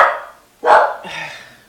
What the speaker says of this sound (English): I don't know why Lynn is barking